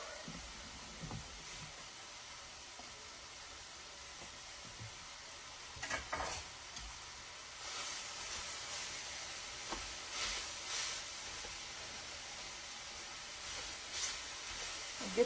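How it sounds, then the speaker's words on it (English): Ground meat and onion browning in a pan, a low continuous sizzle and hiss with occasional scraping stirs and clatters, steady and moderately quiet over about fifteen seconds without speech. "we're going to brown up this meat"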